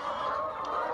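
Aging laying hens clucking inside a henhouse, a steady continuous murmur of several birds close by with no pauses.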